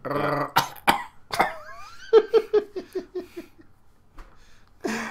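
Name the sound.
person imitating coughing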